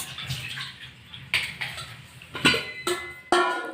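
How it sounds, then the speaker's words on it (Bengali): Boiled spinach is strained, its cooking water poured off in splashing bursts with a few sharp clanks of a strainer or pot, close by and moderately loud between quieter drips, with no voices. "এবার আমি এইগুলোকে ছেঁকে এই জলগুলোকে আমি"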